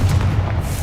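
Confringo explosive spell blasting in Hogwarts Legacy, a single loud, deep booming burst with heavy low rumble, lasting under a second.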